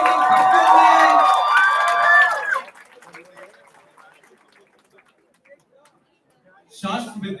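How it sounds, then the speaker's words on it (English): Audience at an annual college festival cheers and whoops loudly for about two and a half seconds with shrill whistle-like cries, then the room falls nearly silent before a short, loud burst of crowd noise returns at the end. "Please give a huge round of applause for the amazing performance."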